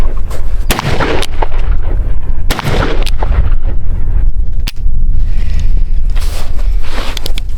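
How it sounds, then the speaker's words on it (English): A cap and ball revolver fired outdoors, with several sharp loud shots spaced a second or two apart over a steady noisy background of wind and handling. "I have never shot a cap and ball revolver, so this will be a first time for me"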